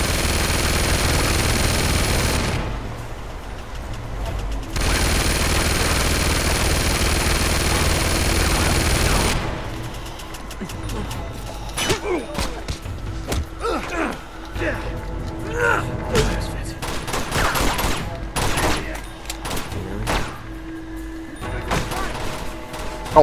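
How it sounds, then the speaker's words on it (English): Gunfire in the video game Uncharted 2 Among Thieves Remastered: a dense roar at first, then scattered bursts and single shots mixed with crashes and impacts, loud and close. "Right, Lamer, shoot him. You got the way to shoot him."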